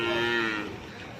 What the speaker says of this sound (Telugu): ఇది ఆవు హెచ్ఎఫ్ ఆవు